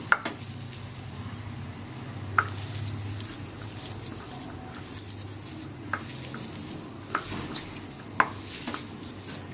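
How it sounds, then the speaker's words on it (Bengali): Cornflour being mixed by hand into a homemade chicken nugget mixture makes soft, sticky squishing and patting sounds, with occasional sharper clicks scattered over nearly ten seconds, close and faint. "কর্নফ্লোরটা মেখে এর মধ্যে মিশিয়ে নেবো ভালো করে।"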